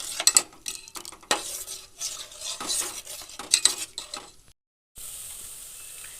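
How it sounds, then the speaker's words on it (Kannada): An herbal mixture being stirred into boiling homemade hair oil in a pot, with irregular scraping and clinking strokes close up, a soft sizzle beneath, a brief pause, then a steadier bubbling hiss. "ಹಾಕಿ ಎಲ್ಲ ಮಿಕ್ಸ್ ಮಾಡ್ತಾ ಇದ್ದೀನಿ ಎಣ್ಣೆ ಒಳಗೀಗ ಇದನ್ನ ಈಗ ಚೆನ್ನಾಗಿ ನಾವು ಕುದಿಸೋಣ"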